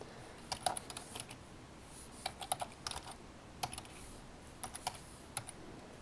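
Typing on a computer keyboard in short irregular bursts of crisp clicks, close and fairly quiet, with no voice during the keystrokes.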